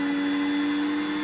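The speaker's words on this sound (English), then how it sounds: "The harder the vacuum, of course, the harder the sound of the machine." Steady high-pitched whine of a professional podiatry nail drill with its built-in dust vacuum running, a constant machine tone with strong hum, loud and close, no talk.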